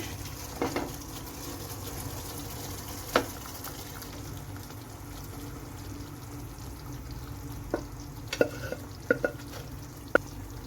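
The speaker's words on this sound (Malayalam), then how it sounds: "ഈ ഒരു പരുവാകുമ്പോൾ നമ്മൾ നേരത്തെ വേവിച്ച് വെച്ചിരുന്ന ബീഫ് നമുക്കിതിലേക്ക് ചേർത്ത് കൊടുക്കാം കുറേശ്ശെ കുറേശ്ശെ" Cooked beef being added bit by bit into thick curry gravy in a pan, giving a soft continuous bubbling simmer with occasional quiet clinks and scrapes of a spoon, growing into a few sharper knocks toward the end.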